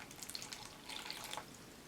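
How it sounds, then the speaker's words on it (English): Half a cup of water poured into a plastic cup, a faint, steady splashing trickle for about two seconds with a few brighter drips, close and alone. "I'm going to start by taking half a cup of water and dumping it into my cup"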